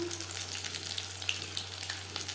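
Fish frying in hot refined oil over a high flame, a steady close, loud sizzle crackling throughout with no talk.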